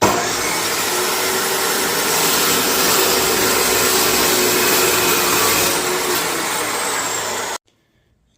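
Metal stock being cut to size for a forged branding iron in a home shop, a loud continuous grinding saw whine with steady rough texture for about seven and a half seconds, then abruptly stopping into silence.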